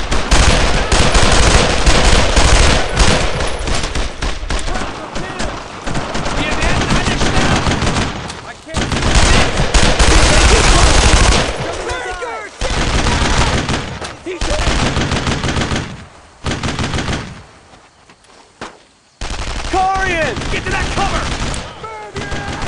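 Dense machine gun and rifle fire erupts in Brothers in Arms: Road to Hill 30, loud sustained bursts broken by short pauses, with shouted combat voices in between.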